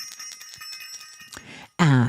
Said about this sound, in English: And then afterwards, you're going to ring the bell.